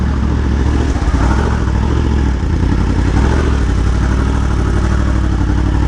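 The engine of a Yamaha R1M motorcycle drones steadily under way, with a constant loud roar and rushing wind noise, close and continuous without pause.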